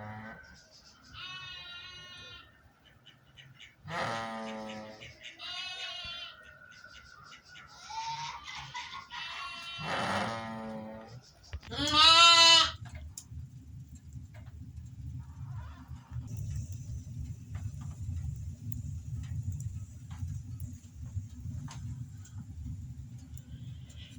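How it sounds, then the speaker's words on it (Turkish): Sheep and newborn lambs bleating at a village farm, several separate cries in the first half, one louder and close, followed by a low steady rumble and quieter background. "Sabaha kadar bağırdılar hem kuzular hem anneler"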